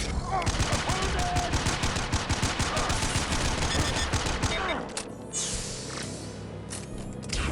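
Rapid, sustained gunfire exchange in the video game Mass Effect, with dense bursts and shots firing continuously for about five seconds before dropping away to a quieter rumble with a few scattered sounds.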